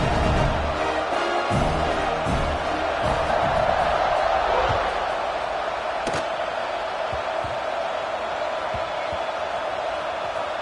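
Stadium crowd at a college football game roars through a kickoff, a broad steady swell of cheering that fades slightly midway, with occasional thumps and shouts in the mix.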